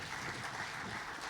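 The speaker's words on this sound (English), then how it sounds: "On peut vous applaudir." Audience applause at a Big Data and AI business presentation, a steady dense wash of clapping filling the short stretch with no talk over it.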